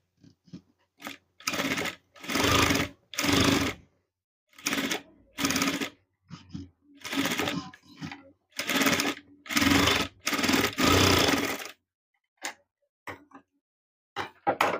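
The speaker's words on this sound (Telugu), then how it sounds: "సేమ్ ఈ లైన్ లోనే కుట్టుకోవాలి." A sewing machine stitches a blouse lining along a marked line, running in repeated bursts of rapid whirring stitches separated by pauses, close and clear, with brief talk between runs.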